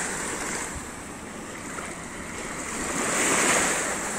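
Sea waves wash onto a soft, stone-free beach on Djerba in a steady, broad hiss of surf mixed with wind, swelling slightly louder toward the end, with no voices.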